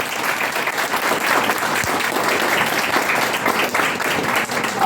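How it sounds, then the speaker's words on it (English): An audience at a personality and leadership development workshop applauds steadily for about five seconds, a dense, even wash of many hands clapping with no pauses. "Give a please big clap to Mr. Gentleman."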